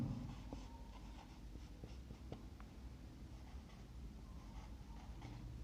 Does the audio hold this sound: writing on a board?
yes